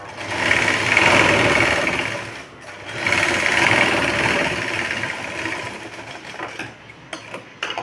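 A sewing machine runs in two sustained bursts of rapid stitching, fixing a button strip on a blouse, then slows into short stops and starts; close and loud with no talking.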